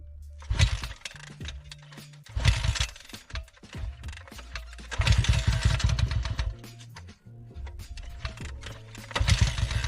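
A motorcycle engine cranks and tries to catch in several loud, close bursts with gaps between, then runs in rough revving spells that rise and fall over about ten seconds.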